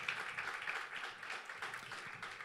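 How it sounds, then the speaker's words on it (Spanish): A church congregation applauds in praise during a worship service, a steady wash of hand claps that holds at moderate volume for the whole stretch with no voices standing out. "Fuerte ese aplauso de alabanza para el Señor"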